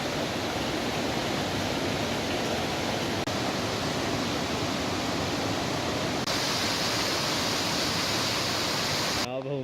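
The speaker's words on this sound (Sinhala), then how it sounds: "සීත ගඟුලේ වතුර දැන් වැඩි වෙලා තියෙනවා" Rain-swollen Seetha Ganga mountain stream on the Sri Pada path via Hatton Road rushes in a loud, dense, unbroken roar close by, cutting off abruptly at the end.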